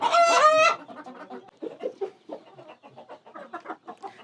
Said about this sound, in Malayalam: നമ്മൾ ഈ കാണുന്നത് ഗ്രാമശ്രീ കോഴികളാണ്.